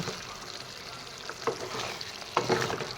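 Chicken curry with potato and tomato being stirred in a pan, a soft sizzle with occasional scraping knocks of the spoon against the pan, fairly quiet, with no voices.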